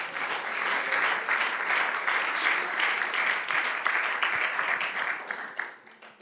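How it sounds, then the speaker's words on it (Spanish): A church congregation breaks into strong applause to the glory of God during a sermon, a steady wash of many hands clapping, fairly faint and distant, fading out at the end. "Un aplauso fuerte a la gloria de Dios"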